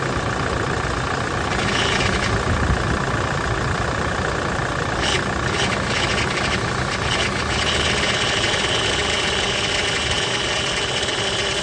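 A rebuilt Toyota Hilux engine running just after its first start, a steady loud idle with a constant rumble and rattle throughout, close by.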